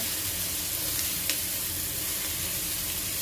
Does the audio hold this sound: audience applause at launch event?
no